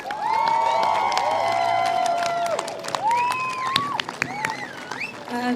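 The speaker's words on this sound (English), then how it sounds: "can we give them a big round of applause, please?" Steady applause from a crowd at a university sports closing ceremony, with a bright whistling tone and scattered cheers running over the clapping, filling the whole stretch.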